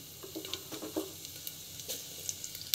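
Mustard seeds and cumin crackling in hot oil for a pumpkin poriyal, a close, continuous sizzle dotted with small irregular pops and spits.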